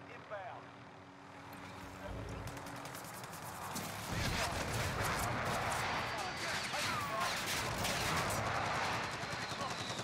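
Gunfire in a video game, with sniper shots and bursts of automatic fire crackling at mid-distance, rising in intensity as someone talks over it.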